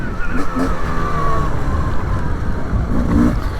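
A 2024 Beta 300 Race Edition two-stroke dirt bike rides over frozen, slick ground, its engine buzzing loud and close and rising as it pulls hard in fourth gear.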